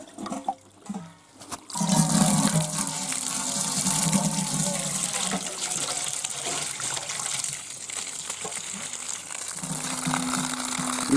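Water gushes steadily from a temporary borehole pipe at a village well with a deep-well pump, a loud continuous splashing flow that starts after a brief pause and runs to the end.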